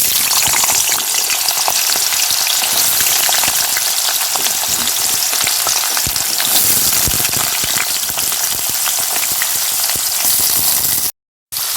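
Shukto vegetables fry in hot oil in a wok, a loud, continuous close-up sizzle with crackling and occasional stirring scrapes, cut briefly by a short gap just before the end.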